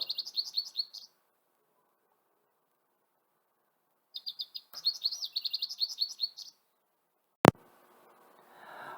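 A goldfinch sings bright, rapid twittering birdsong in two bursts separated by silence, ending with a sharp click and a soft hiss.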